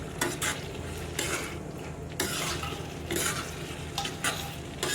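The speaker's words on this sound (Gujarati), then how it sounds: "બસ આ રીતે આપણે મિક્સ કરી લેવાનું છે" A spoon stirs and mixes a spicy roasted peanut curry in a pan, making repeated scraping strokes and bursts of sizzling that come in uneven waves over a soft, constant frying hiss.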